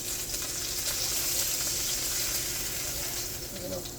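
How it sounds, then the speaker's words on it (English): Snapper fish sears in a hot pan with a steady, close, loud sizzle and hiss that runs evenly from start to finish. "the sear on this snapper is beautiful right now"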